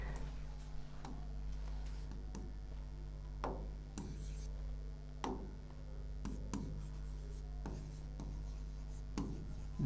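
Handwriting out a definition during a real analysis lecture on bounded sequences: scratchy pen strokes come in irregular short bursts with small taps, close and fairly quiet, over a steady low hum with no talking.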